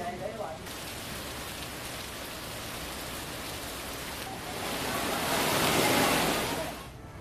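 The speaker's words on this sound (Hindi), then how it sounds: "दोपहर को झमाझम बारिश शुरू हो गई" Heavy afternoon rain pours down in Bageshwar as a dense, continuous roar, swelling louder toward the end before easing slightly.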